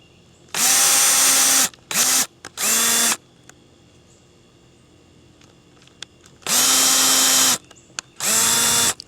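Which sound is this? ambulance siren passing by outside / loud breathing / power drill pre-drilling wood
power drill pre-drilling wood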